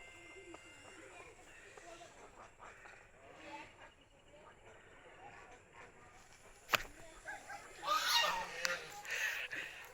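Ducks give loud, harsh honking quacks in a burst near the end, close by, with people talking and excited chatter throughout during a short outing.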